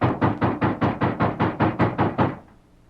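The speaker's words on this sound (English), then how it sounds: "And then there was a loud knock on the door." Loud knocking on a wooden door, about ten heavy, evenly spaced raps in a quick steady rhythm, close and solid, ending abruptly into quiet.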